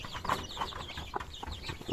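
Local desi chickens cluck at feeding time, several nearby birds giving soft, irregular clucks and murmurs in quick succession.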